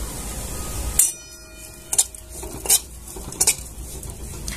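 Cashew, almond and coconut pieces roast in a pan while a utensil stirs them, giving several sharp metallic scrapes and clinks against the pan over a steady background hiss.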